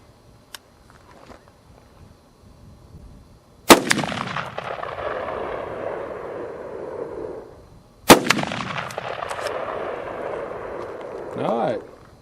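Two loud, close gunshots from a rifle firing Hotshot .223 Remington ammunition, spaced several seconds apart, each followed by a long rolling echo, with faint rustling and handling between shots.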